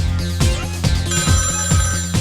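Repeated electronic telephone ring of an incoming call during an Italian radio show, loud and close, a fast warbling ring pattern pulsing steadily with no talk.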